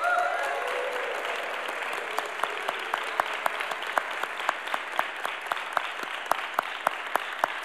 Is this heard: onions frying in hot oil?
no